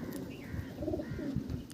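Madras pigeons in a loft give soft, low cooing murmurs, a continuous close rumble of several birds over a short stretch.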